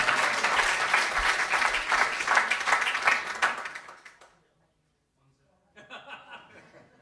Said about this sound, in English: Let's give Lorna a big clap first of all